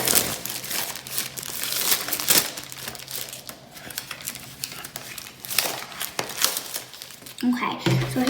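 Plastic packaging crinkles and crackles as it is peeled off a Dollar Tree paint set, a steady run of close rustling and tearing lasting several seconds, with scattered sharper snaps.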